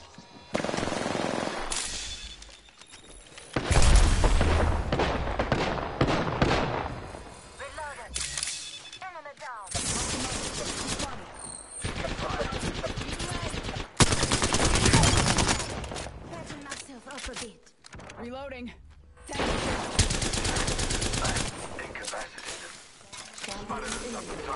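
Rapid bursts of automatic gunfire ring out repeatedly in the video game Apex Legends, sharp and loud, interleaved with in-game voice callouts and brief quieter gaps.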